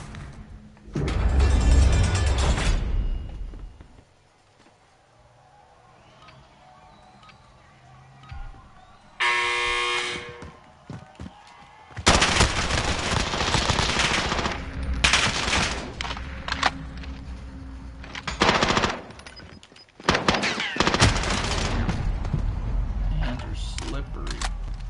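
Gunfire in Call of Duty Warzone, loud bursts of shots and game effects broken by quieter stretches, with a player talking over the action.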